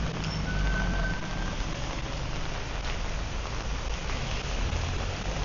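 Tropical rain falling steadily during a walk in Kathu, Phuket, a dense even hiss of drops on surfaces with no voices.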